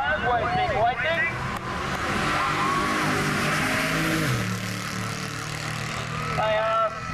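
A drag car sits spinning and turning its tires before a run at a beach drag event in Bunbury, with a steady engine roar, squealing tones at the start and end, and crowd chatter and announcer talk underneath.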